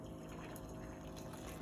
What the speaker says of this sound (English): I'm going to pour it into the cup or the bowl